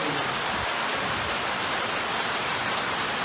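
Heavy rain in rural Jamaica, a steady dense hiss of drops drumming on surfaces with no pauses, loud and close throughout, with no voices.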